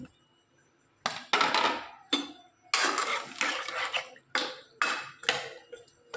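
Soaked yam and potato pieces dropped and stirred into an iron wok, with a series of loud clattering scrapes and knocks of metal and vegetable chunks, in bursts separated by brief pauses.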